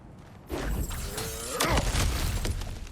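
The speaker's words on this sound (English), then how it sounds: "Ah, back to smashing through things for fun and profit." Objects shatter and break apart in the God of War Ragnarök video game, heard as a loud burst of splintering crashes with heavy thuds, whooshes and a rumbling tail that stays dense to the end.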